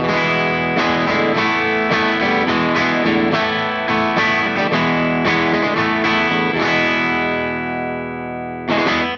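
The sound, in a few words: electric guitar amp at edge of breakup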